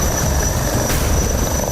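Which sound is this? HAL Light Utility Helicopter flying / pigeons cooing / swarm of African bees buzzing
HAL Light Utility Helicopter flying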